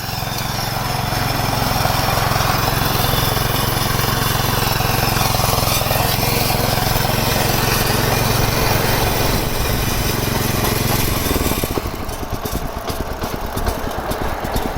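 A Hyper X G40 lawn mower with three Y-blades runs loudly and steadily up close, a constant engine drone that shifts near the end as the load or throttle changes.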